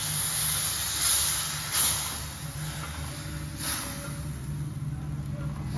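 Water poured into a hot pan of moth bean curry bursts into a loud hissing sizzle that swells in waves, then settles into a steady steaming hiss.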